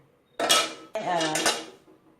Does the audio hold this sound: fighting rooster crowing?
no